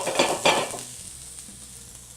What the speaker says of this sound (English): we'll put our hot skillet on the fire and we'll add our olive oil, our green onions, and we'll saute for about 1 minute.